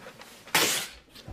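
A single sharp sneeze bursts out suddenly, loud and close, after a brief quiet moment.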